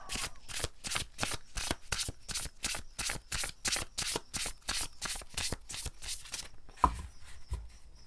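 Tarot cards being shuffled by hand, a rapid regular riffling rhythm of papery swishes repeated for several seconds, close up, ending with a couple of soft taps as cards are drawn.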